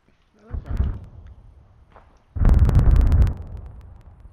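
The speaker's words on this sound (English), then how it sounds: "I heard loud explosions." Two bursts of explosions in a military video game mission, a smaller boom followed by a louder, longer rumbling blast with crackling debris, fading into a low tail.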